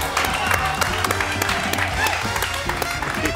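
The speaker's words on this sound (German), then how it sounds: "Großen Applaus." A studio audience at a Hessischer Rundfunk TV show in Frankfurt gives loud, sustained applause with dense clapping and some cheering throughout, with voices mixed in.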